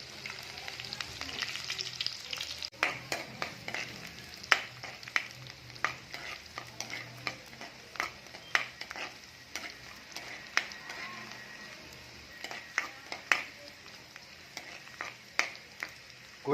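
Ginger and garlic pieces frying in about five spoons of oil for goat liver fry, with a continuous sizzle broken by frequent sharp spatters and spoon-stirring clicks, close and moderately quiet throughout.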